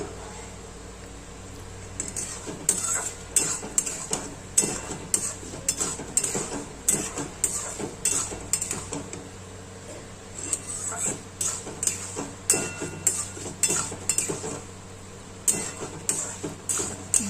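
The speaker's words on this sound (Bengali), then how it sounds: "এবার এটাকে আমি একটুখানি ফ্লেমটা বাড়িয়ে দেবো, দিয়ে আবারও আমি নাড়াচাড়া করব।" Mung dal being stirred in a pan, repeated rhythmic scraping strokes of a spatula against the metal over a low steady hiss, fairly close and moderately loud.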